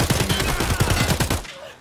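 Rapid automatic gunfire from Escape from Tarkov on the Customs map, a tight burst of about a dozen sharp, evenly spaced shots, loud and close, cutting off abruptly into silence.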